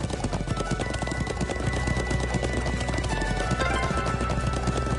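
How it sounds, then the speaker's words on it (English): Horse hooves clip-clop in a fast, steady galloping rhythm over a dense, continuous soundscape in the video game Trails of Cold Steel II on PS5. "I'm glad I still remember how to ride a horse."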